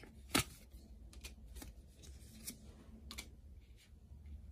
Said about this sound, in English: Let's get a couple more cards to clarify.